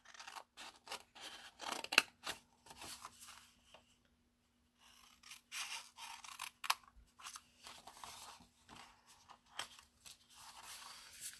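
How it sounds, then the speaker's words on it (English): Scissors snipping through paper to cut blocks from the corners of a paper treat chest, quiet close crunching cuts in short bursts with a brief pause midway and faint rustling. "we are cutting out 3 blocks from each corner"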